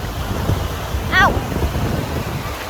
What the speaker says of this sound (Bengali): বাতাসটা অনেক ঠান্ডা।